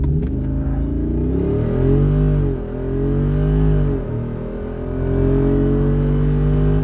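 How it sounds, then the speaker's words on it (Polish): A 2021 Jeep Wrangler with a 6.4 HEMI V8 of 470 hp launching from 0 to 100 km/h, its loud, deep engine roaring as it revs through rising pitch sweeps with brief dips at gear changes, close and dominant. "Przyspieszenie do pierwszej setki"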